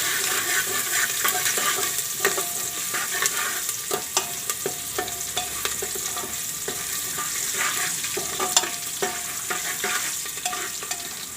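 Chillies, ginger and spices sizzle loudly in a pan as they are stirred, with steady frying hiss and frequent scraping clicks of the spoon, with no speech.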